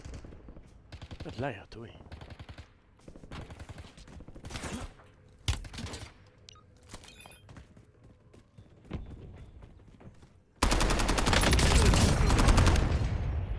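Gunfire in a Warzone battle royale match: scattered single shots and short bursts with footsteps, then a sustained loud burst of automatic fire at the end, with someone speaking French briefly over the action.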